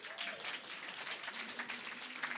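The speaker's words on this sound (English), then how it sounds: "Give yourselves a round of applause." Church audience clapping for themselves after being praised, a steady moderately faint wash of hand claps with no talk over it.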